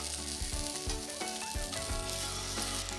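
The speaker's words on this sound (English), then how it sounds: "Continuous contact is necessary to gain an even sear." Pork sears in a hot pan with a continuous bright sizzle, while faint scraping and tapping sounds come through underneath in a quiet kitchen.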